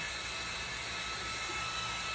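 A Goojodoq GFS001 rechargeable handheld mini fan running at top speed, giving a steady, even airy whir with no pauses.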